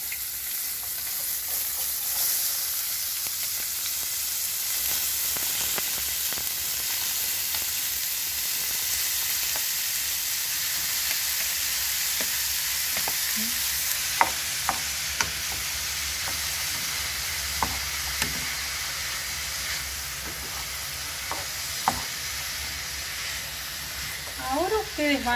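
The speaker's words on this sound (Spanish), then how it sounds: "tenemos el aceite caliente en la sartén y vamos a agregar el morrón" Bell pepper and onion frying in hot oil in a pan for a basic sauce, a steady close hiss of sizzling throughout with occasional soft clicks of stirring.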